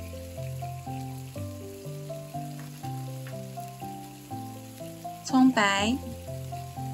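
Garlic, chili rings and scallion whites stir-fry with a steady, crackling sizzle under music, and a brief voice cuts in near the end.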